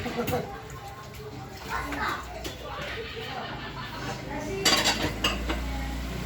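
Plates and dishes being washed and stacked, with steady clinking and clattering of crockery throughout while people talk nearby, including children's voices.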